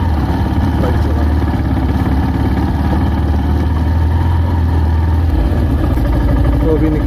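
A motorcycle engine idles steadily on a mountain road in Uttarakhand, a loud continuous low rumble filling the whole stretch with no clear speech.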